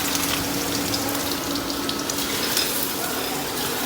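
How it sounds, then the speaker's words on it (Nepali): Paneer half-fries in a hot pan in a home kitchen, giving a steady, close, even sizzle throughout with no talking. "यो चाहिँ पनिर तारेँ मैले। यसले चाहिँ हाफ फ्राई मात्रै गर्दैछु।"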